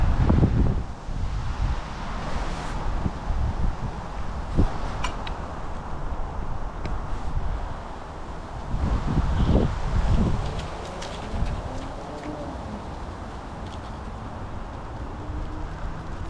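Gusty winter wind in New England buffets the microphone with low rumbling bursts during a bike ride on a trail, steady and fairly strong throughout, with no talking.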